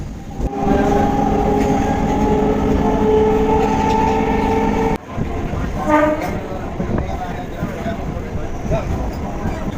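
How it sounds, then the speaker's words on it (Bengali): Loud rumble of a local train running on tracks as it reaches Badkulla station in Nadia, West Bengal, a sustained horn blaring for several seconds, then rattling carriages continuing, with voices mixed in. "ট্রেন আমাদের এই মুহূর্তে এসে পৌঁছে গেল"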